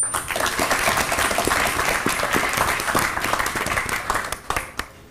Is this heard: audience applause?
yes